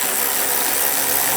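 A tool tightening the coolant reservoir bolts on a 2013-2016 Dodge Dart with the 2.4L four-cylinder, a steady, close, whirring mechanical buzz with no pauses and no voices.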